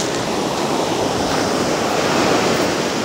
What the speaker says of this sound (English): Whoa, the waves! Aren't they great? Super powerful, huh?